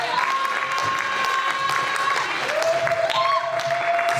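A church congregation applauds and cheers in a steady wash of clapping and crowd noise, with a sustained tone running over it.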